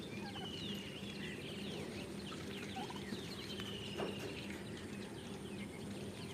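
Turkeys foraging on the ground for insects on a poultry farm, with faint gobbling and soft fowl calls scattered through a steady, noisy outdoor background, distant and low in level.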